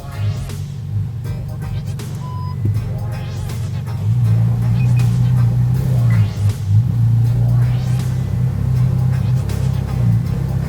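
A car engine idles and revs gently as the vehicle is parked in a home garage, a steady low rumble with rising and falling swells throughout and no talk.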